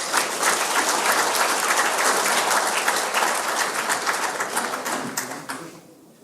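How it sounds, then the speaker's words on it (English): A graduation ceremony crowd gives a round of applause for a professor, loud and dense clapping filling the hall before tapering off at the end. "Round of applause, please."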